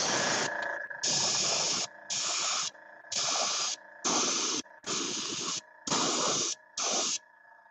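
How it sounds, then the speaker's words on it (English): Brown spray paint hissing from an aerosol can onto painted figures in seven short bursts of roughly half a second each, evenly spaced, close and loud, with a faint steady tone underneath. "Let's spray a little brown on these."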